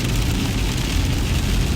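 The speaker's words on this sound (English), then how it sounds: "it's really raining." Heavy rain falling, a dense, steady hiss and rumble of downpour filling the short stretch at close range with no speech.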